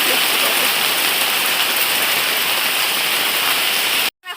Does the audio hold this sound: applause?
no